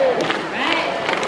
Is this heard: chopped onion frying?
no